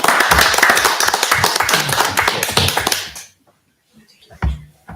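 Audience applause at a school board meeting, a dense loud burst of clapping lasting about three seconds, then cutting off to near silence with a stray tap or two.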